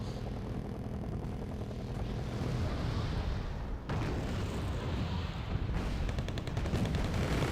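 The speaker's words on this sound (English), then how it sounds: "See, he's taking shots at me" Continuous battle noise with gunfire from the video game Wargame Red Dragon, a dense rumbling wash of shots and distant blasts that stays steady throughout, with no speech.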